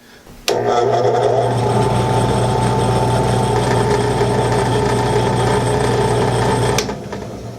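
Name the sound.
drill press running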